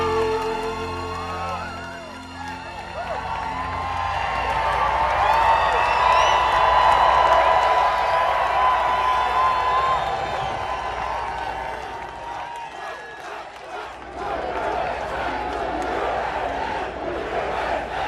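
A large crowd cheers and roars at an outdoor Independence Day rally in Iowa, the sustained loud mass of voices swelling to a peak midway and then easing before rising again as music fades beneath it.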